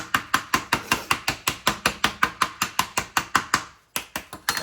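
A bath bomb mixture packed into a 1.75-inch multi-sphere mold is tapped in a fast, even run of about two dozen sharp, close knocks, with a short pause near the end before a few more taps.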